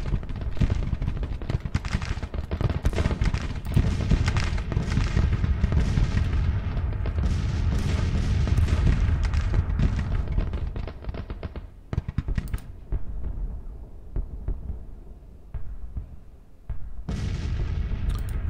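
Civil War artillery guns firing in a strategy game battle, with repeated booming reports and rumbling blasts layered over dense battlefield clatter, thinning briefly before resuming near the end.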